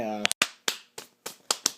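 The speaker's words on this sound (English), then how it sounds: "you clap the powder out of your fingers" Powder-coated fingers clap together about seven times in quick, uneven succession, each one a sharp, close, dry smack, with a brief vocal tone just before the first clap.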